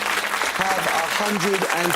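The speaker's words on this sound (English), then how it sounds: "It's very good of you guys to applaud each other" Quiz contestants on University Challenge applaud in a steady, dense patter of clapping while someone speaks over it.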